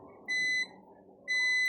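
Two clear electronic beeps from a multimeter continuity buzzer testing a refrigerator defrost timer, each a short steady tone, separated by a brief pause, over faint background hiss.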